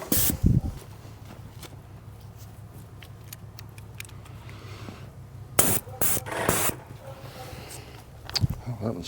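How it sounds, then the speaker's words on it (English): Paint sprayer misting kitchen cabinets indoors during a renovation, with a steady low hum and hiss running under a voice, then loud separate spray bursts about two thirds of the way through. "That's too much overspray."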